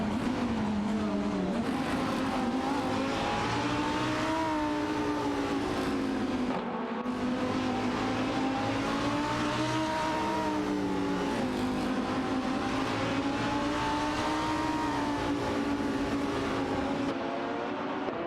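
An Infiniti G35 GT2 and a Lamborghini Gallardo GT3 race in a video game, their engines making a loud continuous whine that rises and falls in pitch as they shift through gears, with no break across the whole stretch.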